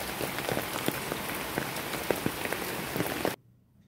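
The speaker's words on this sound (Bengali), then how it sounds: "কারণ প্রচণ্ড বৃষ্টি হচ্ছে তো" Heavy rain pours down on a surface in a dense, steady hiss with scattered drop impacts, close and loud, cutting off abruptly near the end.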